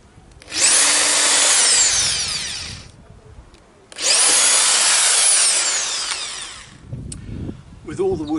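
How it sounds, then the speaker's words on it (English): Power drill boring holes into wooden posts, two long sustained whining bursts of about two to three seconds each, loud and close, with a short pause between and softer handling sounds at the end. "With all the wood holes drilled"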